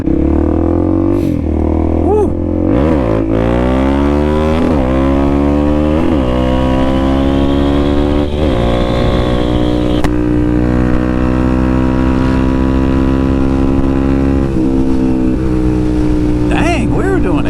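A Suzuki DRZ400SM motorcycle with a KTM-style light rides fast at night, its single-cylinder engine droning loud and close as it climbs steadily through the gears with brief dips between them, wind roaring around it.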